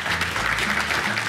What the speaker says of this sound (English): Please join me in a round of applause for our 2022 Latino Spirit Award in memoriam recipient